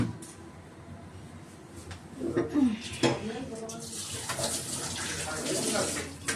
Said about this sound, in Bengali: মা জগে তো জল নেই, জল জল ভরতে হবে